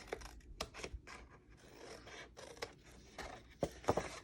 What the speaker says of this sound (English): you're gonna cut the corners. Cut a sliver off of each one.